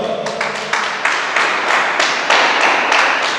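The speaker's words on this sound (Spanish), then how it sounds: "Dale fuerte palmas al Señor." A church congregation claps hands together during a worship service, the claps landing in a steady, loud rhythm of repeated sharp hits with no voices over them.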